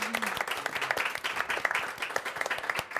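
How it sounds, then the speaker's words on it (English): An audience claps for a panel moderator at a youth forum, a steady patter of many hands, moderately loud, continuing evenly for a few seconds without voices. "Give Yara another round of Great. applause"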